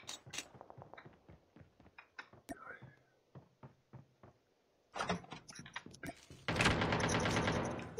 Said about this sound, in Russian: Это ты стреляешь? Так, что-то стреляется.